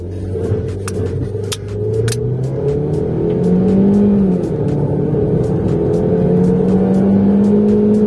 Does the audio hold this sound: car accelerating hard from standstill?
yes